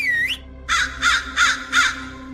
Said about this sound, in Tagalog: Biglang lumabas ang dalawang malaking itim na uwak mula sa dilim at lumipad sa ibabaw ng mga tauhan ni Kapitan.